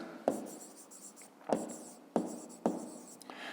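A pen or pencil writes by hand during a fifth-grade maths exercise, making four distinct scratchy strokes with soft rustling between them, close and quiet.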